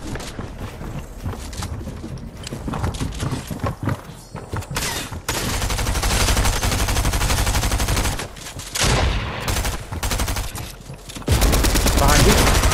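Rapid, loud bursts of video game gunfire crackle in dense volleys, pausing briefly between sustained stretches of shooting before erupting again near the end.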